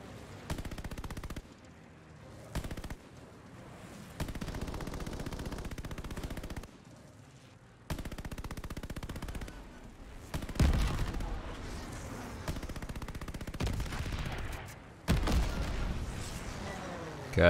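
Rapid gunfire bursts from the video game Call of Duty: Vanguard, with repeated automatic volleys and sharp shots in loud clusters separated by brief gaps across the whole span.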